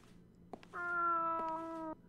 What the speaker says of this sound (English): that is a plaintive sound. That cat's begging game is on point.